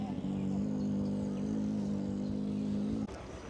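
A vintage 1964 blue Ford tractor idling at a tractor festival, a steady low engine drone with a strong harmonic hum that cuts off sharply near the end, close by.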